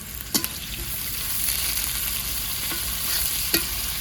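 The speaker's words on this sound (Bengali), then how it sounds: "পেঁয়াজটা আমার ভাজা হয়ে গেছে" Onions sizzling steadily in a pan in a village kitchen while a chicken dish is being cooked, with a few sharp clicks from a stirring utensil against the pan and no talking.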